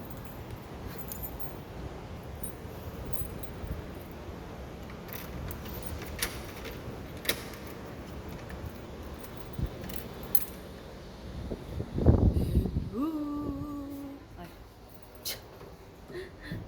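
A bunch of keys jangles briefly in a noisy metallic clatter near a door on a windy, dark evening. Steady wind noise runs throughout, with a few faint clicks before the jangle.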